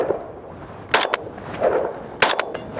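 Two sharp rifle shots from a Springfield Armory Hellion firing PMC 5.56 X-TAC ammunition, each followed by a ringing clang from the steel target, outdoors at a range, spaced just over a second apart.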